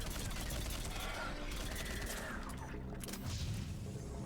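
Assault rifle gunfire from Mass Effect 3 on Tuchanka crackles in dense bursts, loud and continuous across the whole stretch, mixed with booms and game effects.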